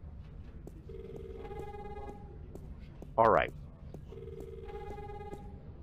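A telephone rings twice in The Longest Journey video game, each burst a trilling electronic ring set apart by a gap, with a brief loud game sound in between and faint talk under it.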